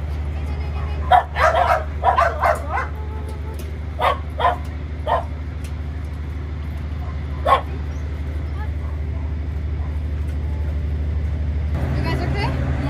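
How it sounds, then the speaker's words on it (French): Two dogs being fed by a volunteer on Koh Tao bark and yip in a quick cluster of sharp barks, followed by a few scattered barks over a steady low background hum. "on a donné à manger à ces deux chiens, Bambi et Indy"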